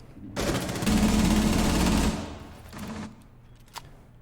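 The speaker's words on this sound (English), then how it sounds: "does it not look like the Ella has literally 0 recoil" Automatic gunfire from Ela's weapon in a tactical shooter game replay: a loud sustained burst of rapid shots for over a second, then a shorter second burst and a single faint shot, with no talk.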